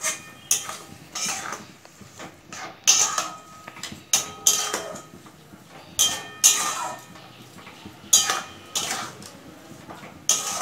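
Coconut, sugar and jaggery stirred in a pan, a spoon scraping and clinking against metal in irregular bursts, fairly faint and close, with a little background talk.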